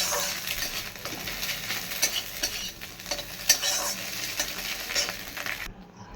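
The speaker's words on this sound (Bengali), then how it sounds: "তো চলো ডিমটা ফ্রাই হয়ে গেছে" Egg frying in hot oil in a pan, a constant crackling sizzle with scattered sharper pops and faint scraping. The sound stops abruptly just before the end, and no one speaks.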